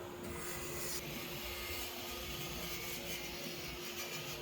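Wood being shaped on a lathe with a regular cutter, a steady, continuous scraping rasp under the hum of the running machine, close and loud throughout with no talk.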